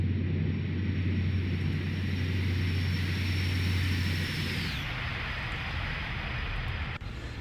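A BAE 146 jet making a flyby in a flight simulator at about 200 knots, a loud steady engine roar with a high whine that drops sharply in pitch midway as it passes, then continues.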